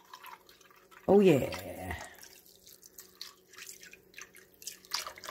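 Pineapple juice pours and splashes over a boneless spiral ham in a crockpot, a short, close, liquid gush lasting about a second, followed by quieter dripping while a person talks.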